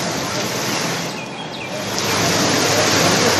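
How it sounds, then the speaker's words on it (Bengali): Heavy rain and stormy wind in Cooch Behar make a dense, steady hiss and rush. It sounds close and fills the whole moment, swelling slightly toward the end. "বৃষ্টি এবং তার সঙ্গে ঝোড়ো হাওয়াও আছে।"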